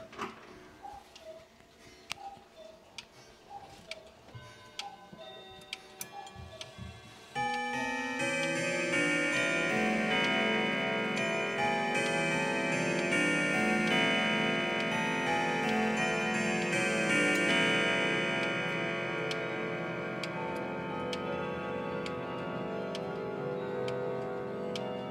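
A Howard Miller grandfather clock with 12 steel chime rods ticks steadily, then breaks into a loud, sustained ringing chime melody that carries on alone to the end.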